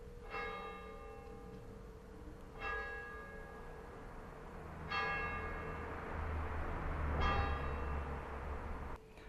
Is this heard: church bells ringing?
yes